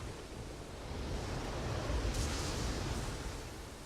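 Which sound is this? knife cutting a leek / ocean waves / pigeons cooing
ocean waves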